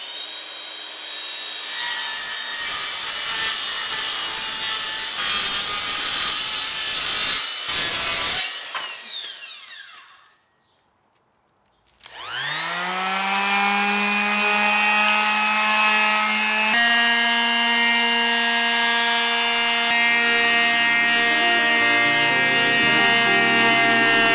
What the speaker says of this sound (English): Now we're going to rip the outside perimeter with a circular saw and clean it up with a sander.